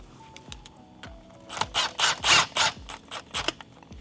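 A cam gear being bolted onto the camshaft of a 2006 Acura TSX K24A2 engine with a ratchet, a short burst of several close, bright clicking strokes amid light metallic handling noise.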